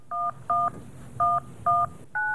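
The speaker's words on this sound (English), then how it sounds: "It prompts callers to enter credit card numbers using their phone's touch-tone pad while the agent stays on the line." Touch-tone phone keypad keys pressed to enter credit card numbers: five clear, separate dual-tone beeps in an uneven rhythm, loud and close, with no voices.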